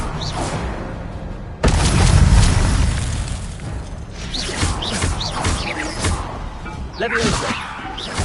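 An Incendio fire spell in the video game Hogwarts Legacy erupts with a sudden loud burst and roaring whoosh, followed by lingering crackling, clanking combat effects and a voice speaking over the action.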